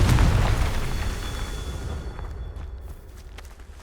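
A Confringo fire spell explodes in Hogwarts Legacy with a loud, deep boom at the onset that rumbles and fades over a few seconds, followed by faint light footsteps.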